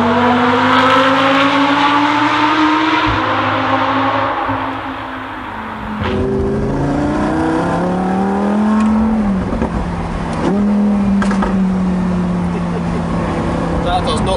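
Lamborghini Huracan Performante Spyder with exhaust valves open, its engine revving up through rising gears, dipping briefly, then pulling hard again, loud and close with a sharp exhaust note throughout.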